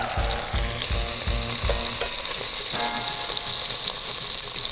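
Rendered bacon fat sizzling loudly in a Dutch oven, a dense continuous crackle close up, with a few dull knocks at the start before the frying swells and stays steady.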